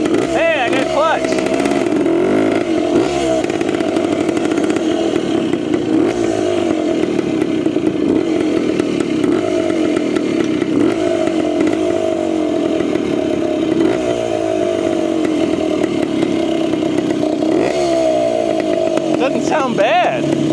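A Wankel rotary engine motorcycle runs steadily right next to the listener, a loud, continuous buzzing drone with some clatter and scraping mechanical noise throughout, without strong revving.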